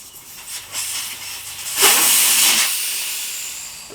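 Air hisses out of a tire as its Schrader valve core is removed, a faint click followed by a sudden loud, close rush that gradually tapers off over about two seconds.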